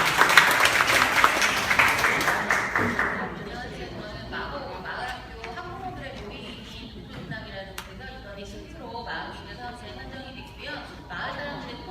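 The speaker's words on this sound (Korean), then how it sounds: "큰 박수로 맞아주세요" An audience bursts into loud applause at a community media presentation event, dense clapping that fades after about three seconds into chatter and a speaker's voice.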